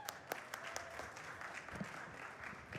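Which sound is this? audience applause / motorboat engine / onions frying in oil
audience applause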